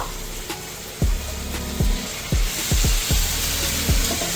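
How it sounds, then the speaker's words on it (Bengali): Spice-rinsing water is poured into sizzling masala in a pan for a doi chicken dish, giving a constant frying hiss. About seven sharp low knocks of a utensil against the pan repeat through it, close and loud. "এই যে মশলা ধোয়া জলটা দিয়ে দেবো"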